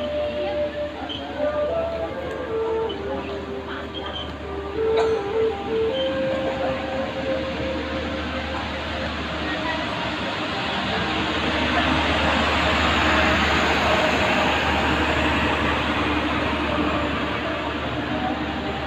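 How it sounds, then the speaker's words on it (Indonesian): A passenger train rolls along on a homecoming trip, its steady rumble and running noise continuous and fairly loud throughout, with faint voices and brief tonal sounds in the background early on. "Jalan leh. Jalan keretanya."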